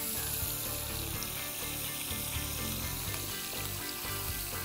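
Firecracker shrimp cook in a CanCooker, giving a steady, even hiss and bubbling sizzle with faint crackles, moderately quiet and continuous with no talking.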